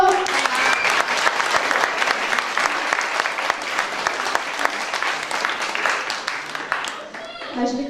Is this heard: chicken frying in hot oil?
no